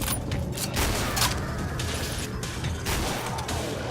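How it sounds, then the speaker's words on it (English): A gun is reloaded in the video game Killing Floor, with mechanical clicks and clacks set over dense, continuous game noise and gunfire. "New mag, give me a sec."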